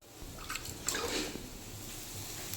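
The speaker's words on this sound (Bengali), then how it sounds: "আমার মশলা কষানো হয়ে গেছে এবার জলটা দিয়ে দিলাম" Water poured into a pan of fried spice paste for a papaya curry, heard faintly as a soft gush and splash that settles into a steady low hiss.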